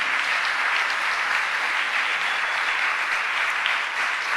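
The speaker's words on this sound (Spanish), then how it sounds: "Le da un aplauso a Dios por su justicia." A church congregation applauds during a sermon, a dense, steady wash of clapping from many hands that fills the room at even loudness throughout, with no voices over it.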